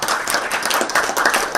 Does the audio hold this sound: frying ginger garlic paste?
no